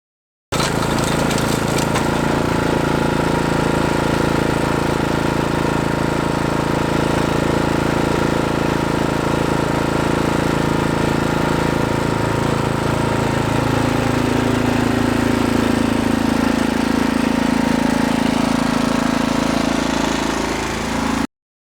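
Toro Power Max HD 928 OAE snow blower running, its engine a loud, steady rumbling drone that holds nearly unchanged for about twenty seconds, with a slight pitch shift partway through.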